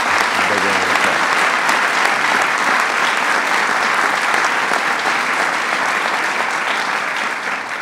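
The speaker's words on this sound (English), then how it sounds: "Please give Mike a big round of applause." A large audience applauds loudly and steadily at a presidential bill signing for the National Defense Authorization Act, a dense, sustained wash of clapping that fades slightly near the end.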